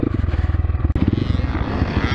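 A 2021 Kovi Lite motorcycle is ridden with its engine close and loud, first pulsing in a fast choppy rhythm, then a brief cut before it settles into a smoother, steady drone.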